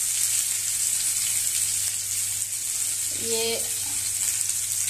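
Ginger and onion frying in a pan for a mahua fruit recipe, a steady close sizzle that runs through the whole clip, with a short brief voice near the end.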